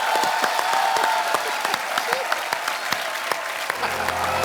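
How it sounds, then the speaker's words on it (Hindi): Studio audience applause on a Hindi comedy talk show, a dense steady wash of clapping with sharp individual claps standing out, held at an even level throughout with a faint tone near the end. "तालियां।"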